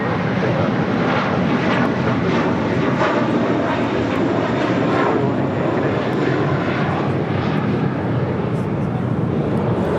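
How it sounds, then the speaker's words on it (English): An Airbus A321 departing LAX for Boston, a loud, steady, broad roar that fills the whole stretch, with a voice talking over it. "taking off to Boston, flight 188 on this A321"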